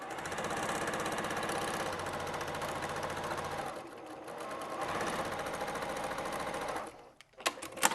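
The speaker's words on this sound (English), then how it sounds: "So here we go. We're going to sew this one on." A sewing machine stitches quilt fabric strips for a half-square-triangle string quilt, whirring fast and steady, easing briefly midway, then stopping near the end.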